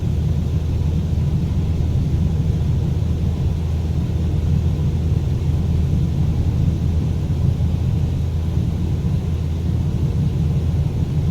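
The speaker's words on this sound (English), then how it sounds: "steering the aircraft on the runway during takeoff" A light aircraft rolls down the runway on its takeoff run in Microsoft Flight Simulator 2024, giving a constant, heavy low engine rumble with a noisy hiss, steady and unbroken throughout.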